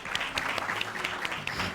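An audience at a school Hispanic and Latin American Heritage celebration applauds an honored staff member: dense, continuous clapping from many hands, moderately loud and steady throughout.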